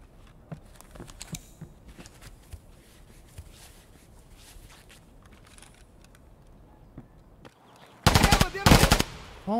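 Video game gunfire during a raid, a dense burst of rapid shots near the end, loud and close, after a quieter stretch of scattered clicks and taps.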